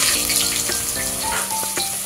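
Onion with garam masala sizzles in hot oil for chicken pulao, a steady close frying hiss with a few faint clinks and tones, no talking.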